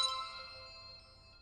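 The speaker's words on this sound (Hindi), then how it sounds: "अरे कपूर साहब का फोन।" A single ringing tone from a phone with an incoming call, a sustained bright electronic chime that fades out steadily over a second and a half, fairly faint.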